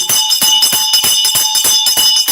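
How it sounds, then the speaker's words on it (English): A bright bell rings in a rapid, even series of strikes, about a dozen close together, loud and near with a sustained metallic ring between hits. "I ring the bell for you"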